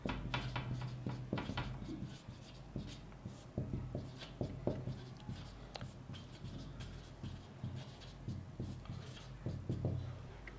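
Notes are written by hand during a science lesson, producing faint, continuous scratchy strokes with small taps and pauses, close by and without any voices.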